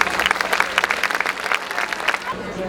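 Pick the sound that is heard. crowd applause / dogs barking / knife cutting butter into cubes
crowd applause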